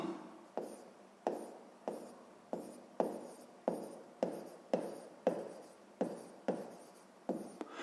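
Chalk or marker taps and strokes out a math expression on a board, a series of about a dozen short, sharp scratchy bursts in a fairly even rhythm, close and clear with no talking.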